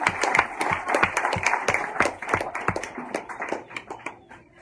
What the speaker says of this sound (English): So let's give a big round of applause to Ms. Johnson.